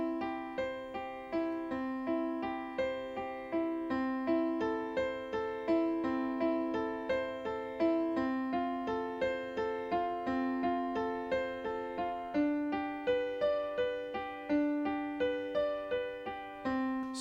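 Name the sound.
piano playing triplet arpeggios of a chord progression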